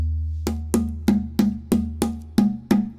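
A microtonal hand drum struck eight times in a steady, fairly quick rhythm, each sharp hit ringing with a low resonant tone over a constant low hum, close and clear with no talking.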